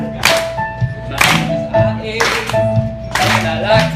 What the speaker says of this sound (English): Okay, guys, clap with us.